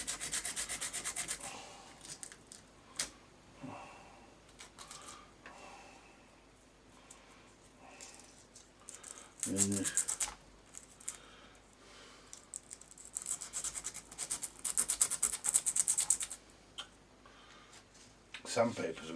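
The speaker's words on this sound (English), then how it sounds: "Sandpaper's a bit crappy" Sandpaper rubbing across a small part during restoration of a Waltham, a steady gritty scraping in short strokes, close and fairly quiet, with a few louder knocks and handling noises.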